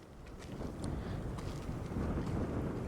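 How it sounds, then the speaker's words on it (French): Wind rising outdoors at a cemetery, a faint low rumbling buffet against the microphone that holds steady and swells slightly, with no talking. "Oh, le vent se lève, les amis."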